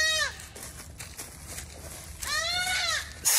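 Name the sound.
baby goat screaming when caught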